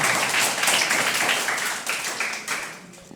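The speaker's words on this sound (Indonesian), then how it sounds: "Tepuk tangan sekali lagi untuk Pak Ilham" Applause from an audience for a speaker at a student medical organization event, a steady dense wash of clapping that holds for about three seconds and tapers slightly toward the end.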